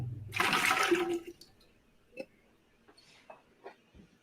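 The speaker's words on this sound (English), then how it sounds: "Now I'm going to pour that water off" Water poured off from a glass during cocktail prep, a short close splashing gush in the first second, followed by faint clinks and small handling sounds.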